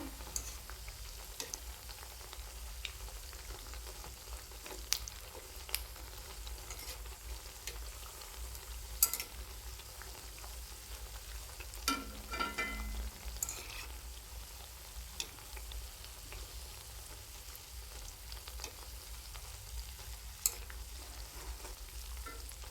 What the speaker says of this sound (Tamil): எண்ணெய் ரொம்ப ஹீட்டாக இருந்ததுன்னா ரொம்ப ப்ரௌன் ஆகிடும் அதனால் மீடியம் ஹீட்லேயே வச்சு வறுத்துக்கோங்க